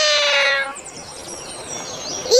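A cat gives one clear, loud, drawn-out meow close by, followed by quieter background sound.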